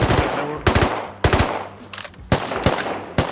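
Rapid bursts of automatic gunfire in the survival game Rust, several short volleys of close, loud shots separated by brief pauses.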